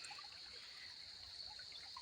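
Water trickles into a farm field, a faint, steady outdoor dribble with no voices.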